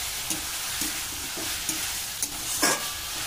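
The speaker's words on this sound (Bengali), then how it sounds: "দিয়ে দিচ্ছি কেটে রাখা টমেটো, খুব ভালো করে কষিয়ে নেব টমেটো দিয়ে।" Jackfruit and chopped tomato being stir-fried in a pan with oil, a soft steady sizzle under a few scattered scraping spoon strokes, close and fairly quiet, with no voices.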